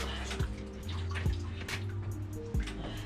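Coolant drains from a disconnected radiator hose on a Nissan S14 with an RB25DET engine, a steady trickling, splashing flow with a few louder gurgles and drips, close by under a low hum.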